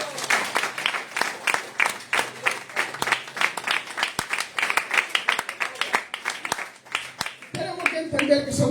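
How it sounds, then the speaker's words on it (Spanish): Church congregation applauding, rapid dense clapping sustained for about eight seconds, loud and close, with voices rising near the end. "Damos aplausos a Jesucristo."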